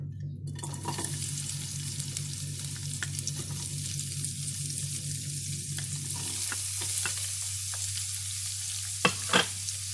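Sliced onion sautéing in hot oil for a vegetable soup, a steady broadband sizzle that fills the whole stretch with occasional stirring clicks and scrapes, close and even, with no talking.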